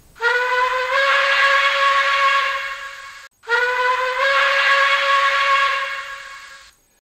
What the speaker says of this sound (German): F3 Dampfpfeife lang.